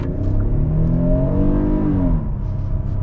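Kia Telluride EX front-wheel-drive SUV accelerating hard in sport mode, its engine note rising steadily and loudly with a climbing whine, then easing off near the end, with no voices.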